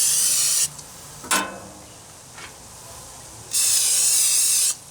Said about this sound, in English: So I just got some of this canola spray, and I'm just spraying these real well before I crack the eggs in them.